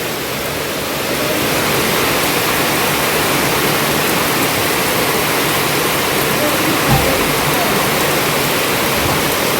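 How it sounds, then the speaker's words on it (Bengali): Heavy rain pouring down in a dense, loud, continuous roar like rushing water, close and steady throughout with one brief low thump partway through; voices may sit faintly beneath the downpour. "বৃষ্টি যেন আরও বৃষ্টি যেন আরো জোরে আসে"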